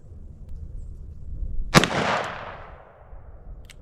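A single sharp, loud shot from a .44 Magnum Smith & Wesson revolver with a 2-inch barrel cracks out mid-clip outdoors, followed by a rolling echo that fades over about a second.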